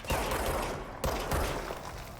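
Enemy gunfire in the game Control erupts as a loud, dense barrage of overlapping shots and impacts, with a sharp fresh volley partway through and noisy combat throughout.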